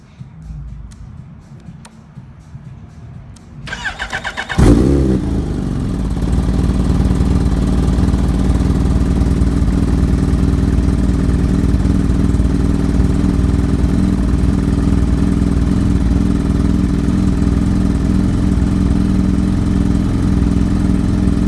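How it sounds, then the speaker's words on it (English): A 2016 Kawasaki Ninja H2 motorcycle, just given an ECU flash, cranks briefly and fires up, then settles into a loud, steady, close idle that runs on unbroken. "you must idle the bike for 10 seconds and then turn it back off"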